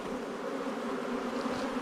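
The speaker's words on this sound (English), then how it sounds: "you have to shake the bees" Honey bees buzz in a dense, continuous drone as a beekeeper shakes a brood frame, the swarm close and loud with a slight swell near the end.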